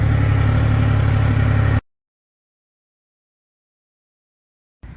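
Triumph Rocket motorcycle engine idling, a deep steady rumble close up that cuts off abruptly after about two seconds, followed by silence and a brief return at the end.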